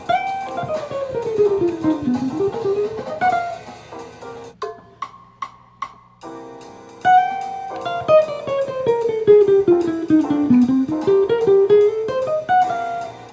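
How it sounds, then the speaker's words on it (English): Melodic electric jazz guitar phrases played alone: flowing runs of single notes descending and rising, with a brief passage of short plucked notes in the middle. "So Dan's lick sounds like this"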